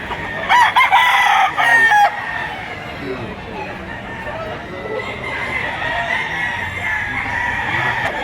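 A loud rooster crow rings out near the start, then fades into a quieter yard ambience with faint distant clucking and crowing, on a farm in Lipa, Batangas.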